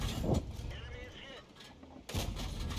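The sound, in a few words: tank cannon firing shells in a tank video game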